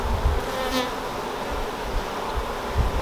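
Honeybees swarm around an open brood box during a hive inspection and split, making a dense, steady, close buzzing hum with individual bees droning past.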